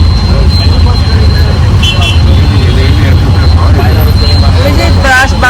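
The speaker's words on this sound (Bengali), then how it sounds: "বাড়ি থেকে বেরিয়েই এই ট্রাফিক।" Busy road traffic with buses, including one held up while trying to turn right, rumbles steadily and close, with passing vehicles and brief horn-like tones over a constant low drone as rain begins.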